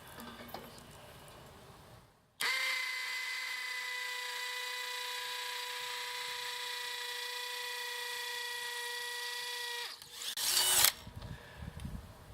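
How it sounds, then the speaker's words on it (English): A steady, high-pitched whine of a power drill with a 3/8-inch bit drilling into concrete continuously for about seven seconds, then stopping with a brief rattle and scrape. "then you'll use a 3/8 drill bit"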